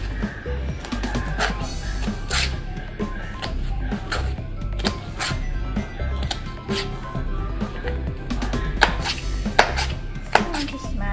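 Knife chopping chicken into cubes on a cutting board, a steady series of sharp close taps in uneven rhythm, alone with no talk.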